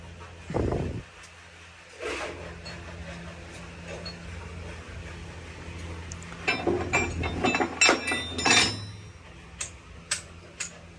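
Nuts, bolts and gearbox parts from a New Holland 3630 tractor being washed, with scattered light metallic clinks and ticks, a few soft thumps early on, and a denser run of clinking toward the end, all fairly quiet.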